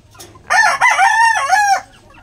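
A rooster on a backyard chicken farm lets out one loud, close cock-a-doodle-doo lasting about a second and a half, with faint quiet around it.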